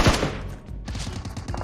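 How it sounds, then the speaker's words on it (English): Rapid bursts of gunfire in the PUBG battle-royale game, loud sharp shots clustered at the start and end with a dense stream of fire between, no talking. "I can hear the gunshot everywhere."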